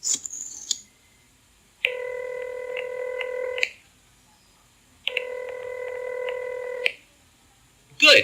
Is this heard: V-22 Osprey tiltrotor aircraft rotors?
no